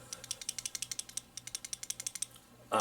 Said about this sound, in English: There's a little rattle in the clip there